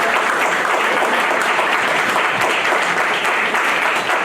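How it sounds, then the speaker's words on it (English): Steady, loud audience applause at a community words-and-music event, dense clapping holding evenly throughout with no voices above it. "can we just have another robust round of applause"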